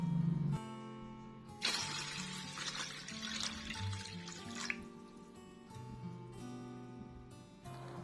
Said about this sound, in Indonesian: Selanjutnya terlebih dahulu kita akan masukkan air bersihnya ya teman-teman.